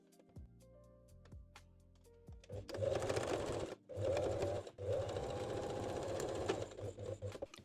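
After a few soft handling clicks, a sewing machine backstitches a thong side seam in three close, loud bursts with short stops between them.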